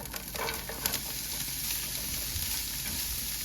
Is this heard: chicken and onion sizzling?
yes